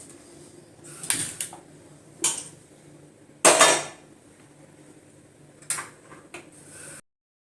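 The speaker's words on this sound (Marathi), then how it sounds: "तर आता आपण गॅसवर पॅन गरम करायला ठेवूया" A metal pan set down on a gas stove during cutlet preparation, heard as several distinct clanks and clatters spaced over a few seconds, fairly close and with no talking.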